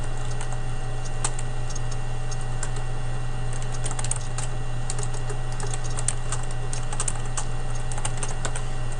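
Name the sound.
typing on a computer keyboard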